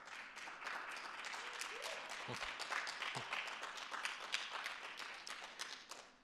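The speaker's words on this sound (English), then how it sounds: "Let's give them a big round of applause." Applause from a city State of the City audience honoring the transportation committee, steady distant clapping throughout with brief voices mixed in.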